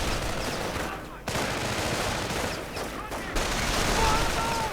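Dense, continuous rifle and machine-gun fire pours into Panzer Grenadiers in a WWII strategy game match, a loud unbroken roar of shots with brief gaps and faint voices underneath.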